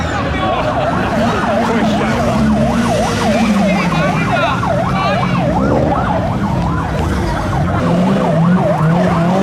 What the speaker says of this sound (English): there's a police car that's about to come in